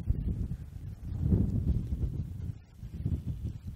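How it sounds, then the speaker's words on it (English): Strong north wind blowing outdoors at a shooting range, a low buffeting rush against the microphone that swells and eases in uneven gusts, with no talk. "Now our wind is coming pretty strong out of the north here"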